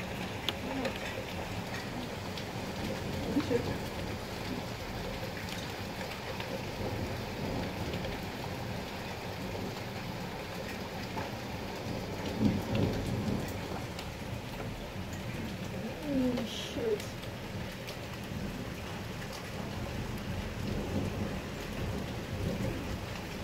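A heavy hailstorm in Utrecht Lunetten, a dense steady roar of hail and rain hitting the ground with low rumbles of thunder, a few faint voices in the background.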